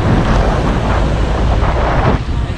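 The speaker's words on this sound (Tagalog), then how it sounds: "medyo mahangin na." Strong wind buffeting a microphone while cycling outdoors on a road loop, a loud continuous roaring rumble with no pauses and no talking.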